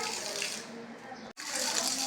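A 48 volt DC water pump running on supply power pushes a steady, continuous rush of flowing water, loud and even throughout with one brief dropout near the end.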